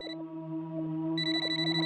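A phone rings with a repeating electronic ringtone of sustained, bright tones, fairly faint and heard alone without speech.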